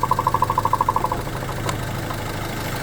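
Idling diesel engine of a 2017 Renault Master tow truck, a steady low hum with a rapid even pulsing in the first second that fades into a smooth, quiet drone, close by with no talk.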